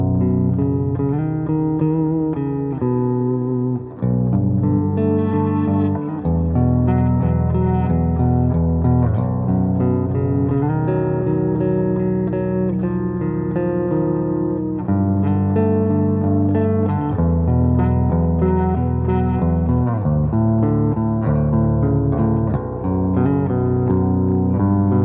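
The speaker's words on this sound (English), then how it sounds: "this is a clean channel on Helix Native" A clean electric guitar through the Helix Native amp modeler plays chords and sustained notes, full and resonant, continuous and alone without any voices.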